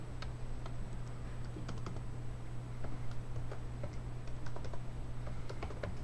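Keys tapped on a computer keyboard while pressing the Alt and spacebar shortcut, giving scattered light clicks over a steady low hum, close and fairly quiet, with no talking.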